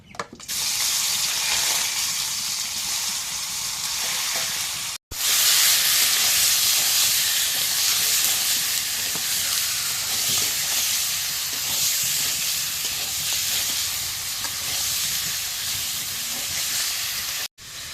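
Oil hissing and spitting in a hot wok over a flame as broiler chicken fries, a loud steady broadband sizzle that runs continuously with one brief gap, no voices.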